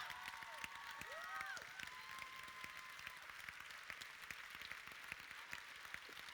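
A live audience at the Grand Palais Éphémère claps for a speaker, steady dense applause with sharp individual claps standing out, heard at a moderate distance.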